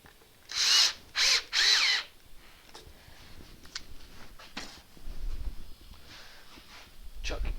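Power drill driving 30mm screws through a faceplate into a 2-inch wooden bowl blank on a lathe: three close, loud whirring bursts in quick succession, then quieter handling clatter.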